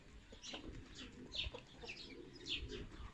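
A rooster clucking, with soft repeated clucks and chirpy calls from fowl nearby, faint and scattered over quiet background noise.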